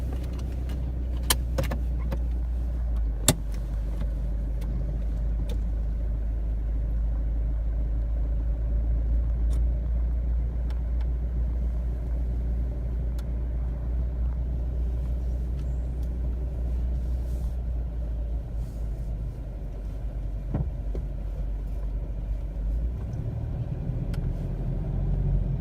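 A Toyota Prado GX engine starts by push button and settles into a steady, low, close idle rumble that runs throughout, with a few small clicks and rattles.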